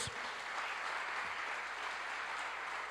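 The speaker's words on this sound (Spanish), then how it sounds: "Denle un aplauso al Señor si quiere." A church congregation applauds at an evening Bible study, a steady wash of clapping that holds at even strength for the whole stretch, with no talking over it.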